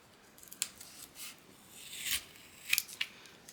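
Tape being peeled off an acrylic bookmark in a quiet room: a few short, crisp ripping bursts with small clicks between them, faint and close, no talking.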